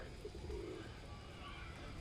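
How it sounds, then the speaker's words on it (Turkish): Pigeons lined up on a rope in a park with peacocks give soft, low cooing calls, faint and somewhat distant over outdoor background noise. "güvercinler sıra halinde ipe dizilmişler"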